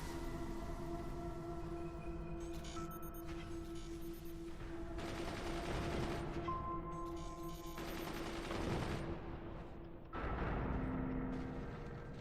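Machine gun and mortar fire in a 2v2 modded video game battle, with dense overlapping bursts and booming impacts rolling continuously at moderate distance, punctuated by louder volleys, under a steady game-soundscape hum.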